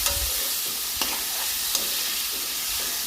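Potato pieces with turmeric fry in a pan, a loud, dense sizzle close by, broken by a few sharp clinks as a spoon stirs them, with no one speaking.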